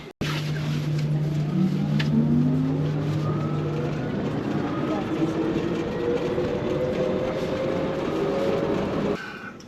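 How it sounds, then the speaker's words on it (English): A passenger train runs steadily for nearly ten seconds, a continuous loud rolling rumble with rising and falling whines from the wheels and motors, ending abruptly. "See how good this one is, this last train."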